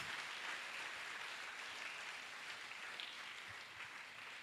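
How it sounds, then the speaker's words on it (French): An audience at an evangelistic gathering applauds for Jesus Christ, a dense, sustained wash of many hands clapping at an even level for several seconds, with no voices over it. "Let's clap for Jesus Christ."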